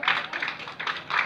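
Short bursts of clapping from a crowd at a public address ring out in quick, bright waves, fairly close and lasting only a moment.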